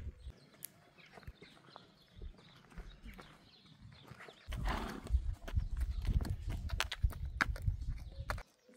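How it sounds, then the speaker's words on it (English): Escaped horses loose near a field with a broken fence: quiet rustling at first, then from midway a dense run of hoof clops and stamping, with possible whinnies mixed in among the hoofbeats. "When we hear some whinnying from some of the horses, we know usually there might be an issue"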